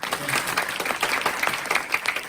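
Students at a chapel service applaud their professors with brisk, lively clapping from a sizeable crowd, close and even, the individual claps blurring into a continuous patter for a couple of seconds.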